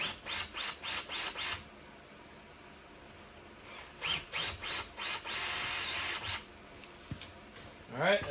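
A power drill with a 1/2 inch bit bores mirror holes on a Polaris Ranger: a run of short rhythmic trigger bursts, a pause, then more pulses and a longer steady whine, close and fairly loud.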